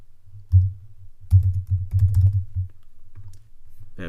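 Typing on a computer keyboard produces a close, dull run of soft key presses: a few isolated taps, then a quick flurry, and a fainter tap or two at the end.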